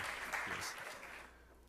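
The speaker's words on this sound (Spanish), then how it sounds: "Vamos a darle un fuerte aplauso al disertante de esta noche, el doctor Luis Báez del Rosario." An audience applauds a lecturer, Dr. Luis Báez del Rosario, at an evening keynote lecture, a moderate crowd clapping that starts full and gradually thins and fades toward the end.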